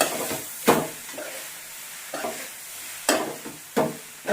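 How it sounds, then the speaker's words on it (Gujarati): Pulao with squeezed lemon and masala is gently stirred in a pot, giving a handful of separate scraping, mixing strokes over a soft sizzle, close and fairly clear. "હવે એને હલકા હલકા હાથે હલાવી લઈએ, મિક્સ કરી લઈએ."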